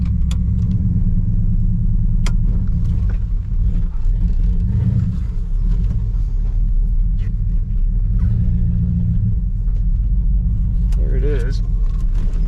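A 1966 Pontiac Bonneville wagon engine running after sitting 20 years, a loud steady low rumble that continues throughout, with people talking over it.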